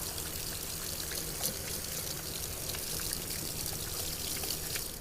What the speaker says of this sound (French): ensuite vous passez directement au rinçage